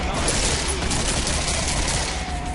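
Gunfire in the co-op shooter Killing Floor: a dense, continuous fusillade of overlapping shots that forms a loud, unbroken roar from start to finish.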